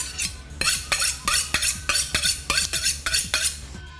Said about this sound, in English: just cut the pork into the portions that you want to serve